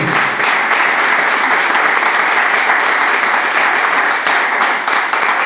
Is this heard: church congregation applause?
yes